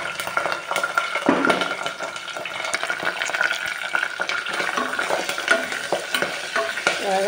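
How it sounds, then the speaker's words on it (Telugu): Mustard seeds, onion, green chilli, curry leaves and garlic tempering in hot oil on a stove, a steady dense sizzle with stirring and occasional utensil clinks throughout. "నూనె వేడెక్కింది. స్టవ్ ఆన్లోనే ఉంది. ఇంకా పోపు వేసేసుకుంటాం."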